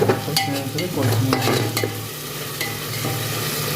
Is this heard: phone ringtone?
no